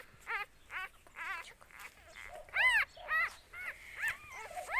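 High-pitched whimpers and yips from a small black puppy, close by, repeating in short bursts of about eight cries with brief pauses between them; no talking.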